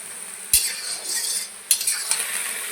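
Jute leaf greens frying and being stirred in a pan, a steady close sizzle broken by two sharp utensil scrapes and clinks against the pan, with no talking.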